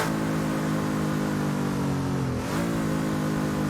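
A race car engine at Bathurst screams steadily at high revs against the rev limiter while plunging downhill, a loud sustained drone whose pitch dips briefly and then climbs back.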